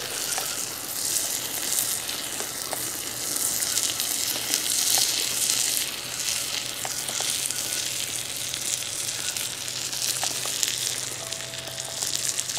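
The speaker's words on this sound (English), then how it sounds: "The oil's on fire." Oil burning in a fire crackles and sizzles steadily, a dense broadband hiss with scattered sharp pops throughout, close and fairly loud with no talking.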